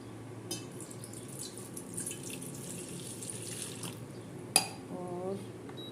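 Water runs from a tap into a cooking pot as a soft, steady trickle, quiet and close, with a brief metallic clank near the end and a voice speaking faintly.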